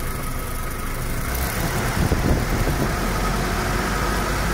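A 1991 Nissan Datsun D21 4x4 crew cab utility engine runs steadily nearby, with a brief rise in revs in the middle before settling back to a smooth, even drone.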